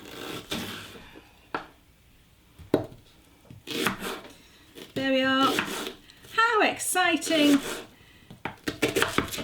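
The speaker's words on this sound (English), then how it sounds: "chopping an onion." Sharp knife chops through an onion on a board, a few spaced strokes then quicker bursts, with a person talking in between and some kitchen clatter.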